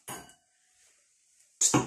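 Wine glasses in a homemade glass harp strike and clink. One bright ringing clink is followed by a quiet decaying tone and then a second sharp, close clink.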